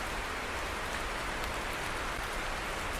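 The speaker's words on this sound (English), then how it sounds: "Hey, and it's bloody raining." Steady rain pours down in a truck-driving simulator game, a dense, even hiss of drops drumming on surfaces, loud and constant with no breaks and no voices.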